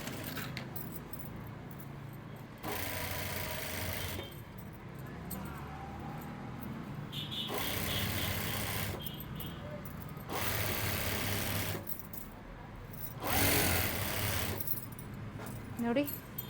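A sewing machine edge-stitches a lehenga border in several bursts of fast whirring, each a couple of seconds long, separated by pauses and faint handling noise.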